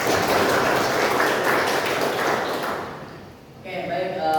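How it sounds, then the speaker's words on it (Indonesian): A burst of group clapping at a teacher-training performance exam fades out after about three seconds, followed by a quiet moment and a faint chime-like tone. "Tepuk tangan buat saudara Yusuf."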